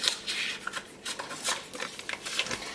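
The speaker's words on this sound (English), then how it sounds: "So I'm just going to unwrap the butter." Paper wrapper being peeled and crinkled off a stick of butter in a kitchen, close-up bursts of soft rustling and crackling in an irregular rhythm, fairly quiet with no talking.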